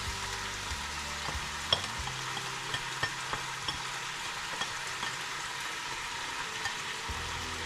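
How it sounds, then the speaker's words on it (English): Eggs frying in a pan for egg fried rice, a steady moderate sizzle with occasional light taps and scrapes of a utensil. "I'm going to go ahead and I'm going to add my eggs in"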